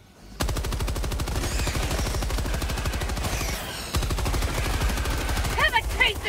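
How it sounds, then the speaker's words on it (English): Rapid sustained machine gun fire in the shooter game Helldivers 2, a dense unbroken rattle of shots after a sudden start, loud and close, with faint chirps and effects of bug enemies mixed in near the end. "Machine gun too."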